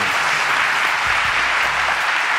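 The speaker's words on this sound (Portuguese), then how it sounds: "Palmas pra ele." A studio audience bursts into loud, steady applause, a dense uniform clapping that holds at full strength throughout the short burst.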